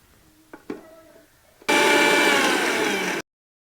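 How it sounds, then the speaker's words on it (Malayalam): A mixer grinder whirs loudly, grinding roasted ginger for a couple of seconds after a few light knocks and clicks, then stops abruptly. "ഇത് തണുത്തതിന് ശേഷം ഒന്ന് പൊടിച്ചെടുത്ത് കൊണ്ടുവരാം"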